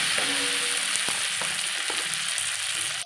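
Cabbage curry with turmeric and a pinch of sugar fries in a pan, a constant sizzle broken by a few light utensil taps and stirring scrapes.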